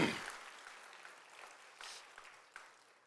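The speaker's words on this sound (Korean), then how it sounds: "우리 열심히 준비한 우리 고등학교 친구들에게 우리 격려의 박수 보내겠습니다" A church congregation at an early-morning prayer meeting applauds high school students, a brief burst of clapping that starts strongly and then thins into scattered, fading claps, with no talking over it.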